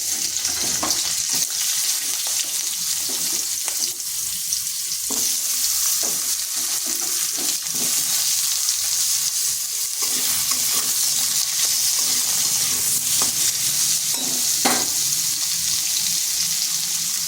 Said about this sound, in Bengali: আলুটাকেও ভেজে নেব